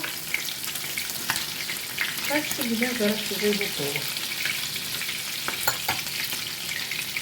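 Liver sizzling and crackling steadily in a hot pan, close by, while someone speaks briefly over the frying.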